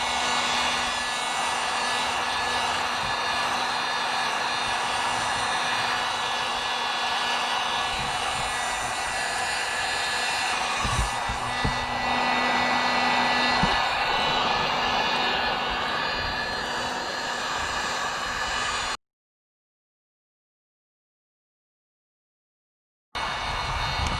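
A heat gun blows hot air onto the plastic hull of a kayak during a repair, making a steady, loud whooshing drone with a low hum for about nineteen seconds. It cuts out for a few seconds, then starts again.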